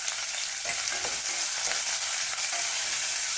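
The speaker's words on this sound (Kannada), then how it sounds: "ಈಗ ಈರುಳ್ಳಿ ಹಾಕ್ಕೊತಾ ಇದ್ದೀನಿ" Onions and green chili fry in a pan for vermicelli upma, giving a loud, dense, continuous sizzle with faint stirring scrapes and no voices.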